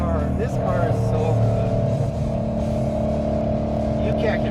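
A 2012 Ford Mustang Boss 302 engine drones steadily from inside the cabin while driving, a loud continuous low rumble with slight shifts in pitch, under people talking.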